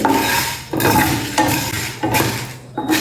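Dried red chillies fry in a pan while a spoon stirs them in repeated scraping strokes, loud and close, with a steady sizzle underneath and no voices.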